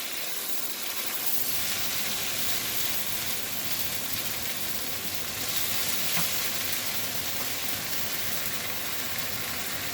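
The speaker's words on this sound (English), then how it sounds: "Stir for a couple minutes." Food sizzling steadily in a hot pan while being stirred, a dense, continuous frying hiss that stays loud and even throughout, with no voices.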